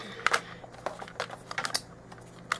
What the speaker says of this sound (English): Go ahead and get the cable unwrapped from it.